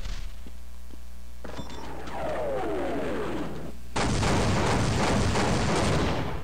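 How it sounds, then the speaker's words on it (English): Airstrike explosions in Half-Life: a low rumble and whining sweeps lead into a sudden loud blast that becomes sustained heavy booming and crackling. "Now, sometimes you have to use the airstrike more than once."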